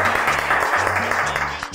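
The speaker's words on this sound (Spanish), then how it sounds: "El aplauso para ustedes, señoras y señores" A studio audience claps through a lively television cooking show, the dense crackle of applause steady under a looping low musical backing.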